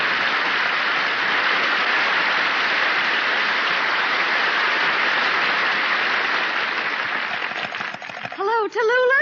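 A studio audience at a 1951 radio variety show breaks into loud, sustained applause that fills most of the moment before fading out as a voice starts talking.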